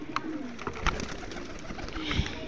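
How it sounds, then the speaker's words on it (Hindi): Pigeons coo softly at a backyard pigeon loft, faint low murmuring calls with a few light flutters and clicks against quiet background noise. "ये कबूतर है गाइस"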